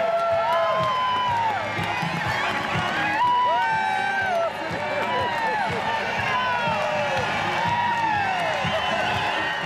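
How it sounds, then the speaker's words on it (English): Roseville crowd cheering at the Rose Parade as a float approaches, a continuous outdoor roar of voices with rising whoops and shouts layered throughout, steady and fairly loud. "you could hear the Roseville crowd."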